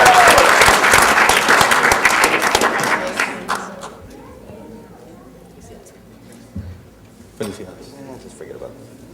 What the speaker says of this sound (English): Give it up for Angel.